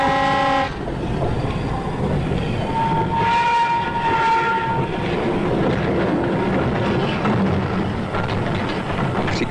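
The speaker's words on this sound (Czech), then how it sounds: "vznikne-li v blízkosti pracovníka hluk, například od jedoucího vlaku" A train passing close by, opening with a loud multi-tone horn blast and then a sustained roar of rolling wagons and rail rumble, joined by a second shorter horn note.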